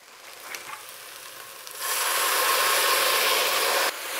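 A loud, steady sizzle bursts up as red wine hits a hot pan to deglaze roasting residue, hissing continuously for a couple of seconds before cutting off abruptly.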